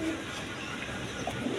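Pigeons cooing softly amid a busy, noisy background, with faint low coos barely standing out from the surrounding hum.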